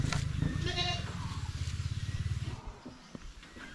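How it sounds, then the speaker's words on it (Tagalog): A goat bleats loudly and close by on a farm, giving one long wavering cry, followed by quieter rustling and a few faint knocks. "Hindi pa tapos sa pag-iyak si Paluma"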